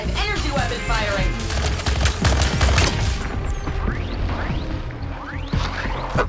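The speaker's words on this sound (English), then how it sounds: "Energy weapon firing." Energy weapon firing in Suicide Squad: Kill the Justice League, a rapid stream of loud zapping shots with rising sweeps and clatter, dense at first and then thinning into spaced bursts, mixed with game chatter.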